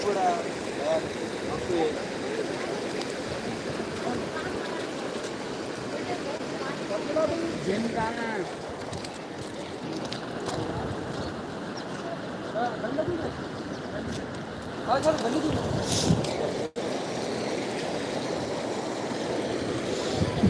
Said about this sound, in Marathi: पाणी लई आलं भाऊ काही वरपर्यंत आता वरीच चढलं